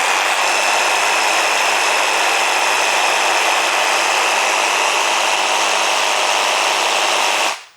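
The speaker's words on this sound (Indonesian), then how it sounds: "karena gergaji yang di maju mundurin seperti itu memang bersuara lumayan lantang" A reciprocating saw runs at full speed, its blade stroking back and forth in a loud, steady, harsh buzz of around 90 dB that holds without a break for about seven seconds, then cuts off abruptly.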